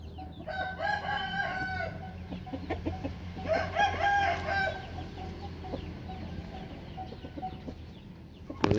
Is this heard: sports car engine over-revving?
no